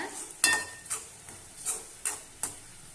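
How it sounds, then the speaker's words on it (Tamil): A spoon scrapes through coconut and jaggery filling in a pan for kozhukattai, six distinct stirring strokes in an unhurried rhythm, each a short scraping swish, close and clear with no talking. "இப்போ தேங்காயை சேர்த்துக்கலாம். சேர்த்து நல்லா கிளறிக்கலாங்க."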